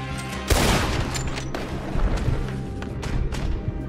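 In a Red Dead Redemption 2 standoff, a loud sharp shot opens a short fusillade of close gunshots with booming thuds, several reports spread over a few seconds.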